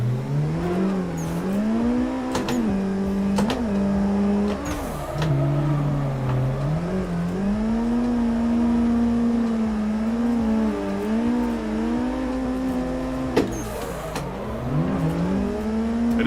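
Drift car engine in Assetto Corsa revving hard and continuously, pitch sweeping up and down through throttle blips and sustained high revs, with sharp gear-change spikes and no talking.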